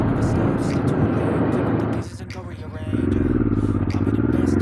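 A 1993 Honda Transalp 600 motorcycle under way, its engine and wind roar loud and continuous, dipping briefly then rising again as the rhythmic engine pulse returns.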